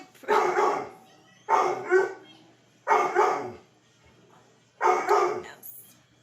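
Dogs bark in loud, close bursts, four separate outbursts spaced about a second apart, excited at puppies in a kitchen; no talk is heard.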